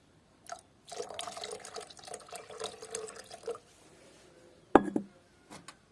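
Water is poured in with acid during gold refining, splashing steadily for a few seconds, then stops; a sharp clunk follows, then a faint brief rattle near the end.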